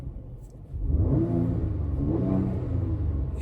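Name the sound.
car engine revving with exhaust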